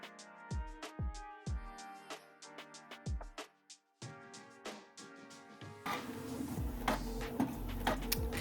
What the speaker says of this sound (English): printing the first set of labels